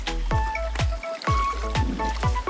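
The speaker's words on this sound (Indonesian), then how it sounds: "Jadi ini saya mengambil airnya dari sungai." Water drawn by hand from a receding river in dry farmland, heard as a close series of about five sloshing pours and trickling drips at an uneven rhythm, with no voices.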